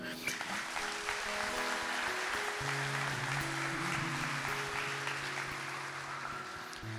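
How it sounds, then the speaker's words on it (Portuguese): A Catholic gathering applauds Monsignor Jonas Abib, with steady crowd clapping spread across the whole stretch, moderately loud, while sustained musical tones play underneath. "Vamos aplaudi-lo?"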